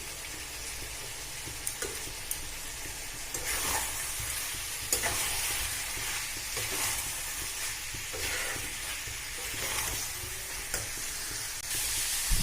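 Chicken kosha sizzles and fries steadily in a pan, a dense, continuous hiss broken by frequent light clicks and scrapes of a spoon as it is stirred, close and even in loudness throughout.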